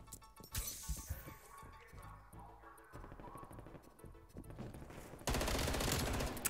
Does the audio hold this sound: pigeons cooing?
no